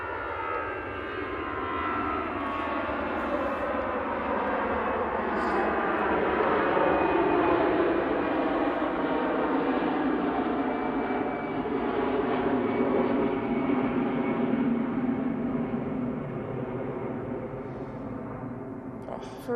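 An easyJet airliner rolls down the runway for takeoff at Manchester Airport, a broad, steady engine roar with a whining tone that builds and holds loudly, while people talk faintly nearby.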